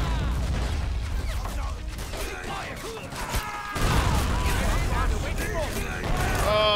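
Mortar rounds explode in a video game battle, a rough series of blasts and crashing debris amid continuous battlefield noise, with a player talking over the action.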